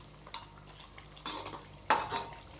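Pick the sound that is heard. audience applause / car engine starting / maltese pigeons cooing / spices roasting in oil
spices roasting in oil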